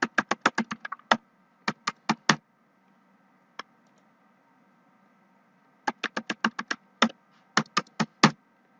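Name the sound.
typing a password on a computer keyboard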